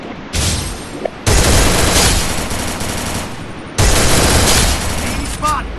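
Loud rapid automatic gunfire in the mobile shooter Free Fire comes in sustained bursts with short pauses between them, dense and close.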